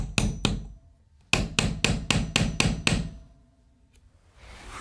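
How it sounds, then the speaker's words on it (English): Hammer strikes driving a nail through a nail set into a wooden chair rail: two quick blows, a pause, then a steady run of about seven sharp, evenly spaced close taps, with no talking. "Now I'm going to use this nail set to go ahead and finish putting this nail all the way in."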